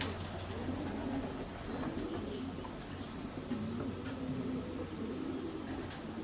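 Pigeons coo softly at a distance in an outdoor setting, a few low rounded calls repeating over a constant background hiss, with no one speaking.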